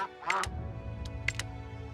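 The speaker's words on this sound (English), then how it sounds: "this duck is going to drive me nuts if he doesn't shut up" A duck in a video game quacks in short nasal bursts, two quick quacks near the start and two more a second later, over a low steady hum of game ambience.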